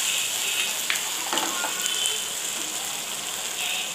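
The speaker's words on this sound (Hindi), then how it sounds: "अब इसमें हम सोया सॉस डालेंगे, थोड़ी देर हम इसको हिलाएंगे" Ginger and garlic fry in a pan with soy sauce added, a close, steady hiss of sizzling broken by a few soft scrapes and clicks of stirring.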